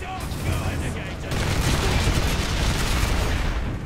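Rapid heavy gunfire from a commandeered weapon in Warhammer 40,000: Space Marine, a dense continuous barrage of booming shots and rattling bursts, loud and close throughout.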